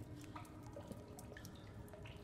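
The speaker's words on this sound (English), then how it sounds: "Ah, there it is. There's water." Faint, steady dripping of water in a cave setting of The Solus Project game, scattered drops falling irregularly over a low ambient hum.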